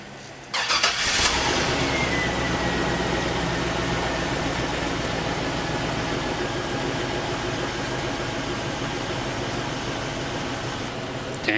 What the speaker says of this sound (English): I thought I'd bring you up here just so you could hear how quiet this motor is running